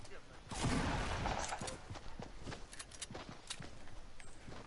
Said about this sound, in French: Ouh, ça tire.